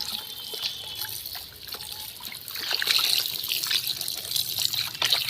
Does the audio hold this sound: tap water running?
yes